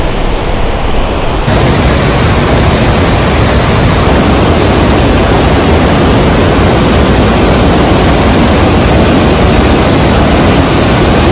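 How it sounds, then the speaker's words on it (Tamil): Heavy rushing water in a monsoon-season forest, a loud, dense, unbroken roar like a swollen stream or waterfall close by, steady for the whole stretch with no voices over it. "தண்ணி சவுண்டு எப்படி கேட்குது பாருங்க."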